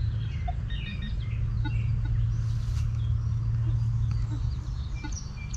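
Birds call from around a cornfield on a hot, humid day on an upstate farm, a rooster-like crow and scattered clucks and chirps over a steady low hum of ambient noise.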